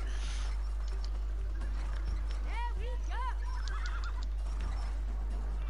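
A horse whinnies twice in the It Takes Two video game, short wavering neighs in the middle amid steady game background noise and scattered chirps.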